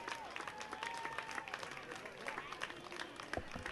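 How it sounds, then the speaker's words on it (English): Applause and crowd noise from spectators at a Dixie Youth Ozone World Series baseball game, honoring the North Carolina team, a dense steady patter of clapping with a few sharper claps, mixed with faint background voices. "Let's give the champions from North Carolina a great round of applause for the play here this week."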